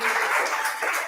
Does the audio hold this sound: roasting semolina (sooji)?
no